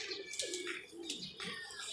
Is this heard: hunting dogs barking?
no